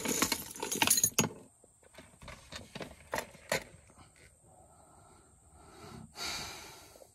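Loose fishing tackle clinks and rattles in bursts as a spilled, unlatched tackle box is tidied up, close and fairly quiet, with scattered sharp metallic clicks and a few soft breaths between them.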